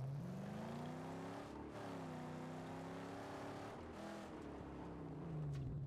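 Steady engine drone of a car driving in the Mad Max video game, a continuous mid-loud rumble with slight pitch shifts as it revs and eases, heard alone with no talk.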